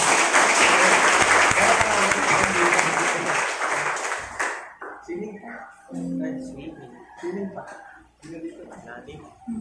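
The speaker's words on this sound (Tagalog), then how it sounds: "Yung pinakamalakas na palakpak sa atin." A church congregation bursts into loud, dense applause that lasts about four seconds, then fades as a voice begins speaking.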